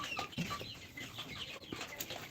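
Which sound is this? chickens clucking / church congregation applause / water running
chickens clucking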